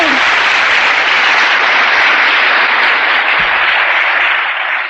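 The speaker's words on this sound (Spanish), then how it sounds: "Un aplauso para todos ellos." A seminar audience applauds first-time attendees with loud, dense clapping that holds steady throughout and tapers slightly at the end.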